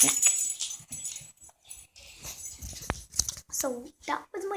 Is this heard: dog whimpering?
yes